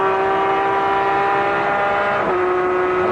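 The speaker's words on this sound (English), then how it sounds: "Sounds of BMW straight 6 power." A 2004 BMW M3 GTR race car's straight-six engine drones steadily at high revs with a strong harmonic whine at the Daytona 24-hour race, dipping briefly near the end before resuming, loud and close.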